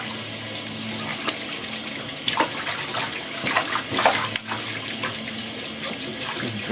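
Bath water runs steadily from a tap into a filling tub until it overflows, a continuous close splashing rush with no talking.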